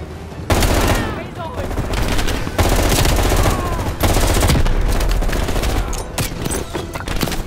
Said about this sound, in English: Oh God, that's a grenade.